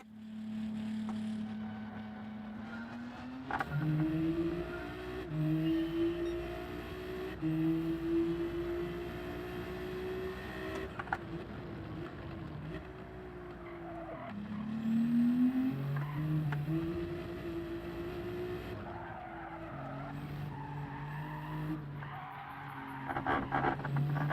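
A Gr3 race car at Spa in Gran Turismo 7 loses grip, its engine rising and falling through gear changes while tires squeal and skid in stretches, loud and steady, with no voices.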